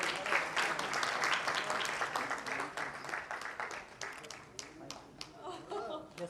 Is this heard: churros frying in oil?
no